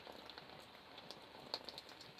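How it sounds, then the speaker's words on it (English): Light drizzle falls after heavier rain, a soft, even patter of fine drops with a few slightly sharper taps, quiet and close. "the rain stopped now. Pretty much, it's just drizzling now"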